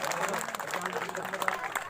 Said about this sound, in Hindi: जोरदार ताली से अभिनंदन कीजिए, स्वागत कीजिए।